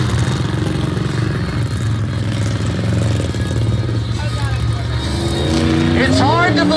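Monster trucks race at an arena show on the All Star Monster Truck Tour in Aiken, SC. Loud, continuous engine roar rises into revving near the end while an announcer talks over it.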